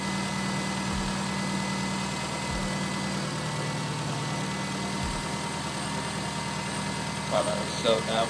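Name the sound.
truck engine idling with slight AC pulley noise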